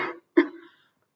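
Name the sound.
coughing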